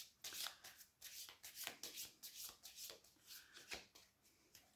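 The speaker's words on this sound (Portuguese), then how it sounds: "penso que já estão baralhados os arcanos maiores" A deck of tarot cards featuring cat illustrations is shuffled by hand, giving a close, steady run of riffling and sliding card bursts in an irregular rhythm, with no talking.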